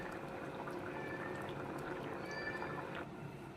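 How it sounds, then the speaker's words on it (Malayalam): Water pours off a pot of boiled tapioca as it drains, a steady close rushing splash that runs on evenly, with no talk. "ഇതിലെ വെള്ളം നമുക്ക് ഊറ്റിക്കളയണം."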